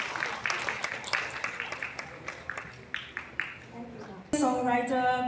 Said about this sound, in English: Let's give a round of applause to Bhadaminot Wankar.